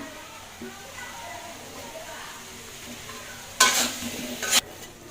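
Potatoes in a pan give a soft low sizzle while being seasoned with salt, then a short loud burst of frying and stirring near the end, with a voice speaking quietly over it.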